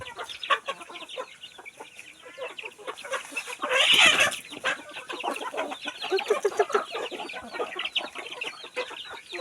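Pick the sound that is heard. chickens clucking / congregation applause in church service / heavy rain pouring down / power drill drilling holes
chickens clucking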